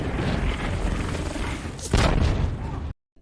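A loud, rumbling blast bursts out over a dense, noisy action-film mix, with voices underneath before the sound cuts off abruptly.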